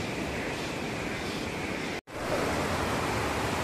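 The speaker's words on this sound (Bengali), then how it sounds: "এই যে ঝর্ণাটা বয়ে চলেছে এদিকে" A waterfall stream flows during a monsoon trek in Meghalaya, producing a steady, loud broadband rushing roar that continues evenly apart from a brief cut in the middle.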